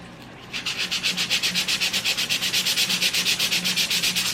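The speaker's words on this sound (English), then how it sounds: "I'm using the 220 grit sandpaper" Rhythmic back-and-forth sanding strokes with 220-grit sandpaper on a painted, rice-paper-textured table, about eight per second, a close, dry scratchy rasp that starts after a brief pause and continues steadily.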